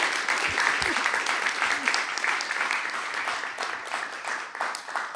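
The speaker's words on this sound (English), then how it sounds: "So please join me in a huge round of applause for Dr." A keynote audience applauds, with dense, sustained clapping from many hands that fills the whole stretch and fades slightly toward the end.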